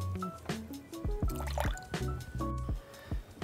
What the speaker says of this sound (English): I'm now gonna put 50 grams of warm water.